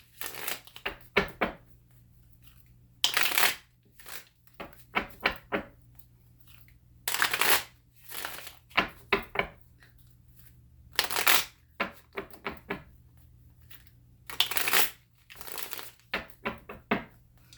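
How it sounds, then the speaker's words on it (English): Tarot cards are shuffled in repeated bursts, with short riffling runs and soft flicks between them, close by and alone without voices. "let me go ahead and shuffle the cards"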